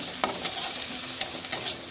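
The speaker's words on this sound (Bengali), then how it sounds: "এবার এটাকেও আমি একটু ভালো করে নেড়ে চেড়ে নেব।" Ground spices with turmeric frying in a pan are stirred briskly, a close, steady sizzle punctuated by several quick scraping strokes of the spoon, with no voices.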